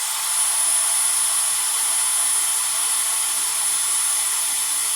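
Milwaukee M18 precision blower running steadily at its lowest speed, a loud continuous airy roar with a faint high whine, unbroken from start to finish with no voices.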